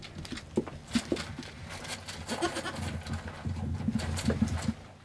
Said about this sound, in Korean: 하지만 남편이 다음으로 신경 쓰는 건 새끼 염소.